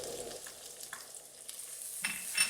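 Garlic sizzles as it is added to a hot pan for Portuguese-style braised peas with chouriço and eggs, a steady soft frying hiss with a few louder crackling bursts as it is stirred, and no talk.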